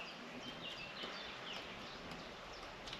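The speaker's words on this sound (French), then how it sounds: "Écoute les oiseaux, écoute." Faint birdsong of small chirps and short calls drifts in outside a camper van in the morning, thin against a steady outdoor hiss.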